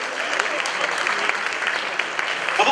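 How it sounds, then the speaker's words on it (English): An audience at the 29th GJA Media Awards ceremony applauds the President, a steady, close wash of many hands clapping with no pauses. "Ladies and gentlemen, shall we put our hands together for His Excellency, the President?"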